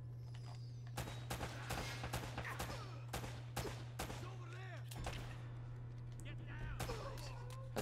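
Repeated gunshots from the Uncharted: Drake's Fortune video game ring out in sharp, scattered bursts with a steady low hum underneath and a few fainter shots between the louder ones.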